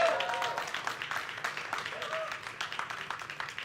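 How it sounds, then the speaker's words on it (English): Scattered, moderately loud clapping from an audience at the Xiaomi launch event at MWC 2019 continues steadily in a large hall, with no voice over it. "we want to give a huge round of applause again to our partners at Orange"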